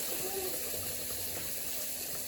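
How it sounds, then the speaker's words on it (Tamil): Water poured into rice in a pot for mutton biryani, a steady continuous splashing gush heard close and alone throughout. "1:2 தண்ணி ஊற்றிக்கணும்."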